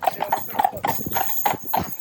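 Hooves of a schoolmaster horse clip-clop in a quick jig-jog trot, close and crisp, about eight evenly spaced strikes over two seconds with a faint steady hum behind.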